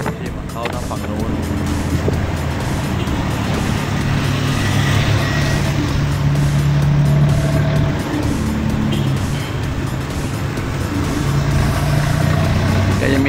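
A songthaew, a high-roofed pickup-truck bus in Hat Yai, Songkhla, carries its riders with a steady engine drone and road rumble, heard from inside over a long stretch, while someone talks over the noise.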